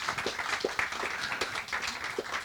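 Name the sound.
applause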